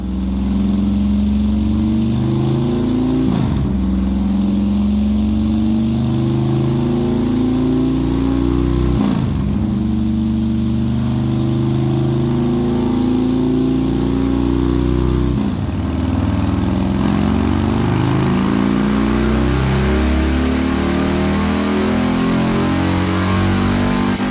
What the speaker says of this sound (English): we can go ahead and try to start the motor